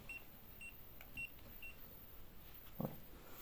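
Faint EMF detector at Château Rocher gives a few short, high beeps at even intervals early on, then falls quiet under soft room hiss, broken only by a brief handling knock.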